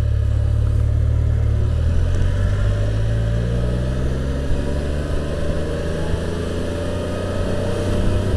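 A 2015 Can-Am Spyder RT's engine after a downshift into first gear, heard while riding as a steady, loud mid-pitched drone with a slight rise and fall in revs, mixed with wind and road rumble.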